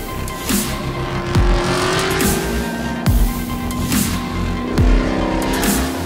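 A Chevrolet Camaro Z28 V8 race car roars on track, its engine rising in pitch through repeated gear changes, with squealing tires and a loud, sustained exhaust note.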